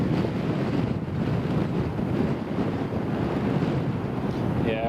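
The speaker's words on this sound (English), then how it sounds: "Wind is very strong now." Strong wind at an airport roars and buffets the microphone in a constant, heavy rush with no letup.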